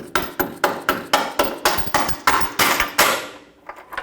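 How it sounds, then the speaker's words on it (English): A hammer taps a bolt through the rear of a lower control arm on a 2012-2019 Fiat 500, about a dozen close, sharp metallic strikes in a steady rhythm that slow and fade at the end. "Tap the bolt through."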